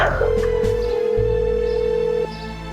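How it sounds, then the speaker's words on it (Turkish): An outgoing telephone call rings back with a single long, steady tone lasting about two seconds, then cuts off abruptly, over a low background hum. "Hadi aç şu telefonu."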